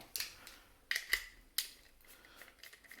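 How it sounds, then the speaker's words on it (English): A small Allen key working the fire selector bolt on an APS ASR118 airsoft rifle makes a few sharp, close metallic clicks and ticks spaced out over a quiet background. "I'm going to remove the fire selector from here. So that's just a tiny little Allen key bolt."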